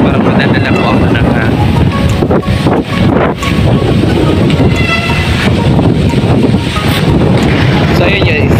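Strong outdoor wind in Lipa City, Batangas buffeting the microphone, a loud continuous roar with gusty swells and a heavy low rumble.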